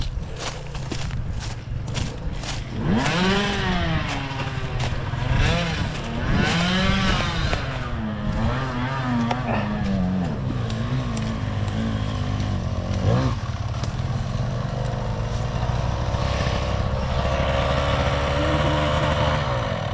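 A motorcycle engine runs close by, revving up and down repeatedly in uneven bursts before settling into a rough, steady idle.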